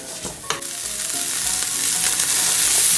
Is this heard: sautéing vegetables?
yes